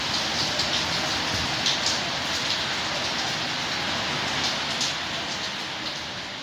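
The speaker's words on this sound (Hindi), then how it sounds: "अचानक से इतनी शदीद बारिश शुरू हो गई" Heavy rain pours down steadily and densely in a street, a loud continuous hiss with scattered drops spattering close by, unbroken for the whole stretch with no voices.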